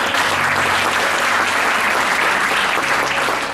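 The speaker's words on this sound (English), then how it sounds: "everyone here, give yourself a round of applause." A large audience at a leadership award event applauds steadily, a loud, dense, unbroken wash of clapping lasting several seconds with no pauses.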